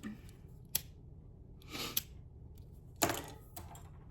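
Scissors trimming ribbon ends, a few sharp separate snips spaced apart with soft handling rustle between them, close and fairly quiet.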